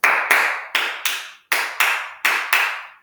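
Footsteps in a galloping dance rhythm, with one foot tagging the front foot, land as crisp, close slaps in uneven pairs with short gaps between them.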